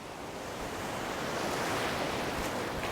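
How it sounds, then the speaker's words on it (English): Ocean surf breaks along the shore at Riviera Nayarit, Mexico, a loud, continuous wash of crashing waves with a steady roar and no voices. "these waves are a little bigger than I was expecting"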